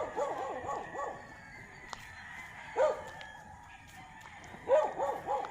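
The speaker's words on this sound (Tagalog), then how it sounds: "Bakit may aso?" A loose dog trailing its leash along a road gives a few short barks and yips at intervals over distant background sound, with no clear speech.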